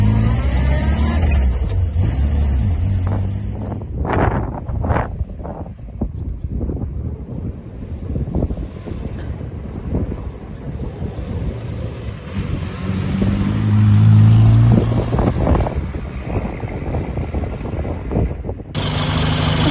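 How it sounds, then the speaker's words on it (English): A 1964 Morris Minor 1000 Tourer on the move, its engine droning steadily beneath heavy wind buffeting on the microphone, with a brief swell in engine noise near the end and no speech. "we drive along a bit and then we slam on for you"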